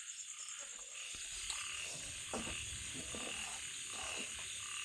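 Frogs croaking in a rural outdoor setting at night, scattered irregular croaks over a dense, constant chorus of high insect trilling, moderately distant and fairly quiet.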